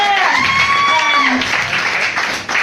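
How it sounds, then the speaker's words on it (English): Applause from a bar audience at a live band gig, loud and close, with crowd noise and a voice over it. "Give yourselves a round of applause."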